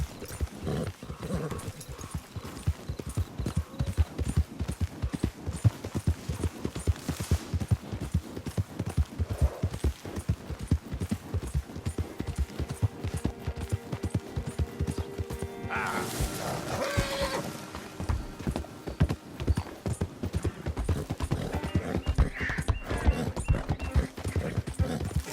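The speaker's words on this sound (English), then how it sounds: "Giddy up." Horse hooves clip-clopping and galloping at a steady rhythm in Red Dead Redemption II, loud and continuous, with a horse neighing partway through and brief mechanical clatter, no talk.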